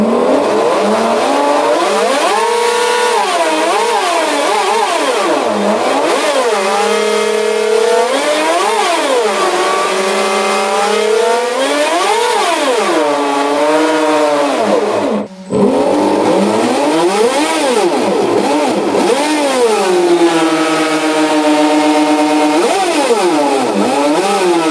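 Twin boat drivetrain engines, just powered on, rev loudly and continuously, their pitch repeatedly sweeping up and falling back, with one brief dip partway through and no talk.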